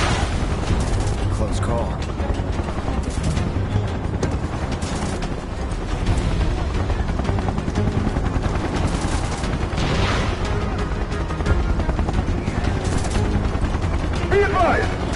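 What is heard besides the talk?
gunfire from the video game Final Fantasy VII Remake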